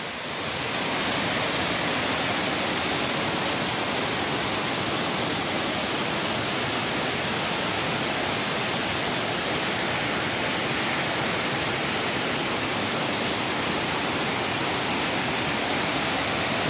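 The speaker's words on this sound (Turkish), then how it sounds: "Mersin Tarsus Boğazpınar köyünde Karasu Şelalesi" The Karasu waterfall in Boğazpınar village near Tarsus, Mersin, pours water over rocks in a mountain setting. It makes a loud, constant rushing roar that fades in at the start, then holds steady and unbroken.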